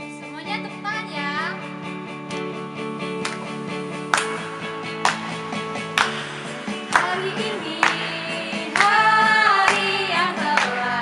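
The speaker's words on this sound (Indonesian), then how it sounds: "Semuanya tepuk tangan ya." Group of teenagers at a Sunday school class in Kupang clapping hands in rhythm along with a sung praise song, steady claps under singing voices that grow louder toward the end.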